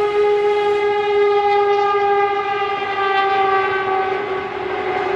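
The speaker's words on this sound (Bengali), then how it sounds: "এইমাত্র বন্দে ভারত চলে গেল" A Vande Bharat train passes close by, its loud sustained horn blaring steadily over the rumble of the train for several seconds.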